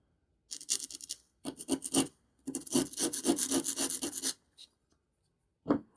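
A blade shaves and scrapes a bamboo calligraphy qalam in a few close, rasping bursts of strokes separated by short pauses, with one final scrape at the end.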